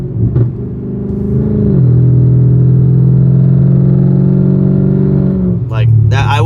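A BMW F10 car engine revs up into a loud, steady droning rumble that holds for several seconds before dropping away, heard close from inside the car, with a short burst of talking at the end.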